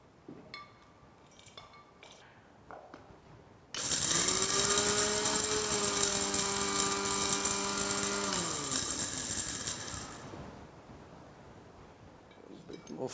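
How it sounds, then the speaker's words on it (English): A small kitchen mixer grinds dry roasted spices into fine powder, a loud steady whine starting abruptly and running about six seconds before winding down, with quiet moments before and after. "I'm going to grind them finely in a small mixer"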